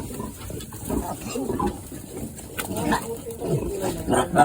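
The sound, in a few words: frightened pigs squealing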